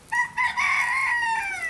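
A rooster crows at a stable, one long drawn-out cock-a-doodle-doo that rises and falls, close and clear with no talking.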